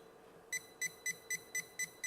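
A SCUBATECTOR waterproof metal detector held near a coin gives seven short, evenly spaced electronic beeps in a quick steady rhythm, fairly soft and alone.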